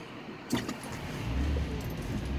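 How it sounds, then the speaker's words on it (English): A car approaching on the road, with a brief click near the start and then a low rumbling swell that grows louder and holds as the vehicle draws nearer. "There's a car coming."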